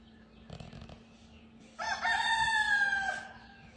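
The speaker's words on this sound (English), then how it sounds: "the rooster's getting a little bit more vocal now" Rooster crowing at sunrise: a long, clear cock-a-doodle-doo rings out at moderate distance after a few soft earlier clucks, over a quiet outdoor morning background.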